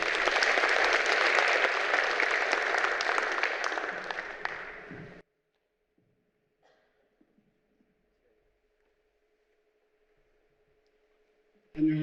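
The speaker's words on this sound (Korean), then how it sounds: "큰 박수로 맞이해 주실 부탁드립니다" An audience at the 2022 Korean Smart Water Grid society conference opening applauds a speaker from Incheon Metropolitan City, with steady clapping for about five seconds before it cuts off into near silence.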